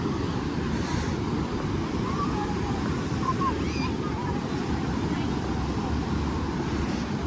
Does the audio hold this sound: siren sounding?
no